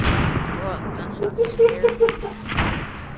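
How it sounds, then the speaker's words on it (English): A few sharp video-game sniper rifle reports, short and punchy, under a player talking excitedly amid other in-game noises. "I hear a sniper"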